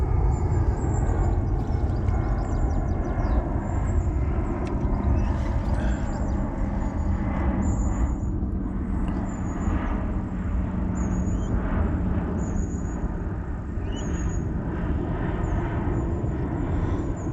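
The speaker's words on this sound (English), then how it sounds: "Another plane going over" A propeller or jet airplane passes overhead beside the River Thames during a fishing session, a steady, continuous broadband drone that fills the whole stretch without clear rise or fall, with no talk over it.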